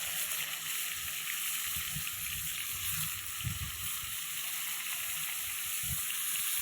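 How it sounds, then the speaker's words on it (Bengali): Salted, turmeric-coated river fish frying in hot white cooking oil, a steady close hiss of sizzling with a few low bubbling pops and gurgles, no talking. "মাছটাকে ভালো করে ভেজে নেব"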